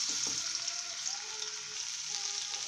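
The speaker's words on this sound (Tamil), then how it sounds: "இதே கொஞ்சம் இஞ்சி பூண்டு வந்து இந்த எண்ணெயில் கொஞ்சம் இப்படி வதங்க விடுங்க" Ginger garlic paste sizzles and fries steadily in hot oil in a kadai, a close, continuous bright crackle with no voices.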